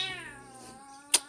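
A local cat gives one drawn-out meow that falls in pitch, close and moderately loud, followed by a short sharp click.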